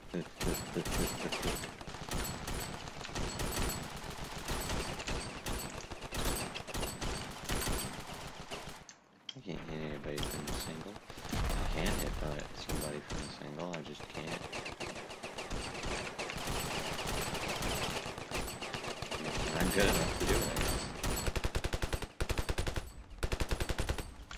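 A grease gun in Ravenfield fires in dense, rapid automatic bursts, loud and nearly continuous, broken by one brief pause, with someone talking over the shooting.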